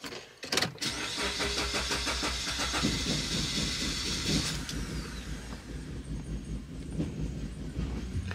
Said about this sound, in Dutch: zet de auto eens aan voor de grap